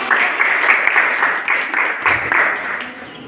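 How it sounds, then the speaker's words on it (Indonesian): A classroom of students claps for a student group, with brisk, fairly close applause that fades out toward the end and no one speaking. "Tepuk tangan dulu untuk kelompok."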